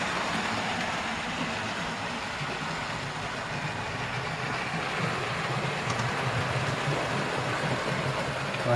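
A model railway engine runs on a loft layout near a level crossing, producing a steady, continuous rolling rumble and hum at moderate volume with no talking.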